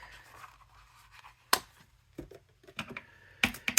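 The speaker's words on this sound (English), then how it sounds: "I'm going to cut out, just the white, a few of the eggs" Scissors cut out paper Easter eggs for a craft card in a few sharp, close snips scattered among softer rustling paper sounds, with no talking.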